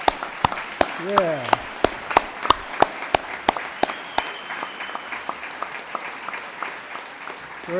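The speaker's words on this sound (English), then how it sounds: "they deserve another hand of applause here" Applause at a school awards ceremony, heard as sparse, scattered hand claps from an audience rather than a dense roar, with a brief voice partway through.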